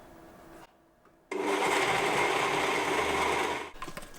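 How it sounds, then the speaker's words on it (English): A blender whirs up coriander mint chutney. After a short pause it starts with a sudden loud roar, runs steadily for about two and a half seconds, then winds down, all close up with no talking. "And just blend that in one more time."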